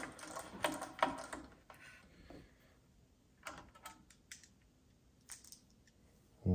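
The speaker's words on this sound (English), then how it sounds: "So now it looks like there's just three screws and we're gonna pull those out." Mini screwdriver backing three screws out of a Baratza Vario coffee grinder during a circuit board repair, giving faint, close clicks and small metallic scrapes in short bursts separated by quiet pauses.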